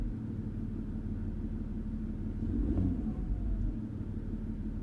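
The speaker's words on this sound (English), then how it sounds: "when I rev the engine" Jaguar XF 2.7 engine with an EGR fault, revved: steady low rumble of the running motor that swells briefly midway as the revs rise, then settles back to idle, with no talking.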